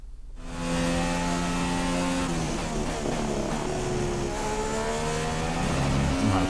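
An F1 car engine on a flying lap in F1 2016, starting from near silence then holding a loud, steady high-pitched whine with rising and falling revs through gear changes.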